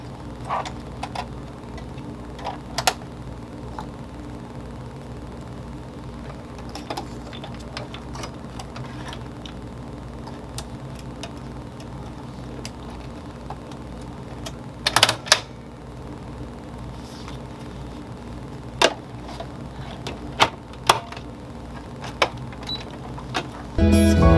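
An embroidery machine stitches an in-the-hoop wall hanger, giving a steady low mechanical hum with faint rapid needle ticking and a few sharper clicks and clacks, heard alone at moderate level throughout.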